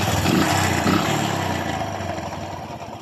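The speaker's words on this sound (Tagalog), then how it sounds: "may lagotok ang kanyang makina guys, no? Kapag nakanormal ang andar at hindi natin napiga ang kanyang clutch" A Kawasaki Bajaj CT 100 motorcycle idles close by with its clutch not pulled, the engine knocking, a rough, steady clattering putter that fades a little toward the end.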